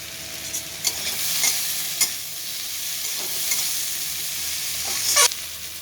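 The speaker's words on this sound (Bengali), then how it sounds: "কিছুক্ষণ ভেজে নামিয়ে নেব" Egg and okra frying in a pan with black pepper, a steady broadband sizzle with occasional scrape and stir sounds, close and moderately loud, no talking.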